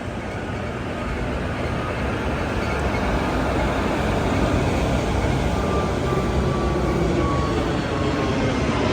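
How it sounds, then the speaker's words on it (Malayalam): MGR Chennai Central–Thiruvananthapuram superfast train rolling slowly past a platform, a steady broad rumble that holds evenly loud throughout with no distinct clanks or voices. "ഇവിടെ 2-ാം നമ്പർ പ്ലാറ്റ്ഫോമിലൂടെ ഒരു ട്രെയിൻ കടന്നു പോവുകയാണ്"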